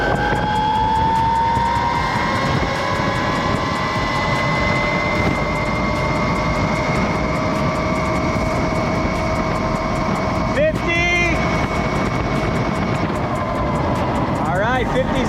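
Rawrr Mantis X electric dirt bike accelerating hard in sport mode, a rising motor whine climbing steadily in pitch over loud wind rush, close and continuous, with a rider talking over it.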